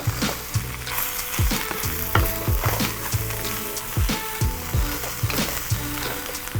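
Hoisin beef noodle stir-fry with cabbage sizzles loudly in a hot pan while being tossed, with repeated clacks and scrapes of the utensil against the pan.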